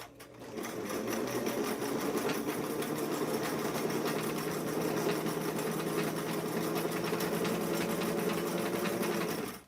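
Steady continuous hum and whirr of a sewing machine stitching a blouse seam, running without pause for nearly ten seconds at a constant close, loud level.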